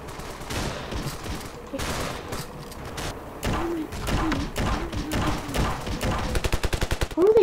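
Gunfire from soldiers in the video game Ravenfield: scattered shots and thuds build into rapid machine-gun bursts near the end, fairly loud and continuous.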